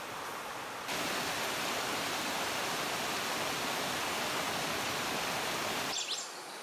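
A broad, steady roar of rushing river and waterfall near Iguacu Falls fills the air, cutting in abruptly and holding constant before dropping away, with a faint bird note near the end.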